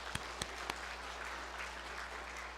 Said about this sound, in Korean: 우리 모두를 위해서 한번 박수 한번 해봅시다